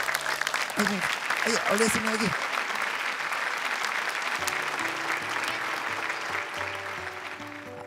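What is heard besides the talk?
audience applause for parents at Hafiz Indonesia show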